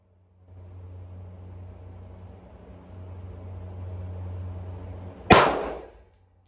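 A single sharp gunshot cracks out near the end at an outdoor shooting range, loud and close, following several seconds of low steady rumble and background noise.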